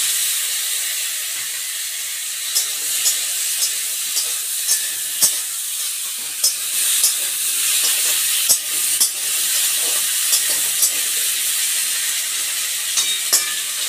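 Vegetables frying in hot fish oil tempered with cumin and fennel seeds, a steady close sizzle and hiss with frequent small pops and stirring clicks throughout.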